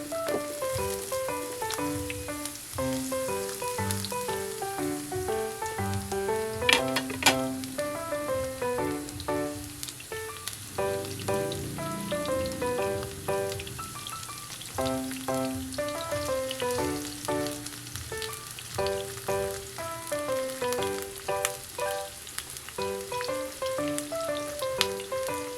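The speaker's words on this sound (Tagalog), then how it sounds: "Sauté ginger, garlic, and onion." Ginger, garlic and onion sautéing in a pan give a steady, close sizzle that runs throughout, partly under background music with sharper crackles at moments.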